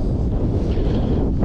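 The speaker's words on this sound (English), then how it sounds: "Sorry about the wind" Wind buffets the microphone on a coastal walk, a steady low rumble that is loud and continuous with no voices over it.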